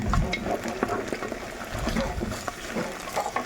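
Tomato paste browning in a hot pan is stirred, with a steady sizzle broken by scraping clicks and knocks of the utensil against the pan, close and fairly loud.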